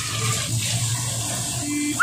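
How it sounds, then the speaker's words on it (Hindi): Hot tap water runs over a cleaned kitchen item being washed at a sink, a steady moderate hiss and splash throughout with a brief clatter at the end. "धो के आपको दिखाती हूँ कितना ईजीली गर्म पानी से साफ़ हो जाता है"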